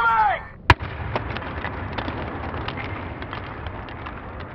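A Modern Warfare 2 tactical nuke kill-streak effect: a brief voice, then a single sharp blast that gives way to a steady, rumbling roar with scattered crackles.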